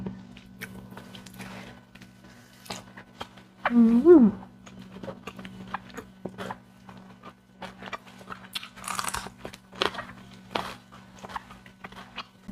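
Someone eats Lao green bean salad with sticky rice and sour cured meat, with soft crunching and chewing bites that come and go, plus a brief hum of voice in the middle.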